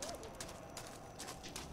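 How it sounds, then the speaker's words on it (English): Approaching footsteps in the horror video game Dark Deception, a steady series of sharp hollow steps clip-clopping at an even pace, fairly faint and distant against a constant background. "yes, those footsteps are getting louder."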